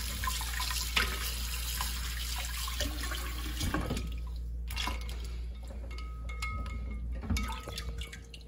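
Tap water runs and splashes while homemade butter is rinsed in a kitchen, a steady close stream broken by a few sharper splashes and drips, without speech.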